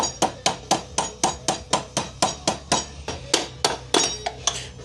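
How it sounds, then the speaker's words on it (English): About fifteen sharp, ringing metallic hammer blows strike a bicycle wheel axle to drive it out, in a steady rhythm of roughly three per second, close and loud, with no talking. "And now you are ready to take axle out. Take our trusty old hammer."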